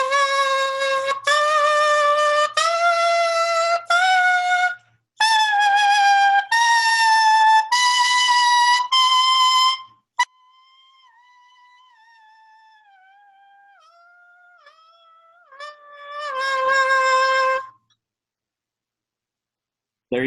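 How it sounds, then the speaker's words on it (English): A saxophone mouthpiece played on its own, stepping through a major scale in short bright squawking tones, then a softer thin wavering stretch and a final loud note, with brief gaps between phrases. "We're going to do a major scale on the mouthpiece."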